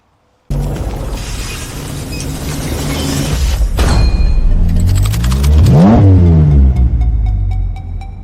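The 530-horsepower Maserati Grecale Trofeo starts up with a sudden loud bark, then its engine revs in rising and falling sweeps that peak near the middle before settling, close and alone.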